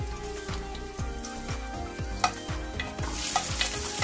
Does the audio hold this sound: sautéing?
yes